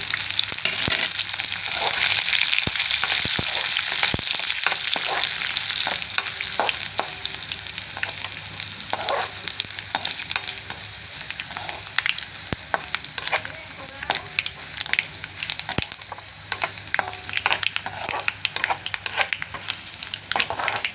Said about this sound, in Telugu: కొత్త తాలింపు పెడుతున్నాను చూడండి వెల్లుల్లిపాయలు అండి ఇప్పుడు కరివేపాకు ఎండుమిరగాయలు ఆవాలు మినపప్పు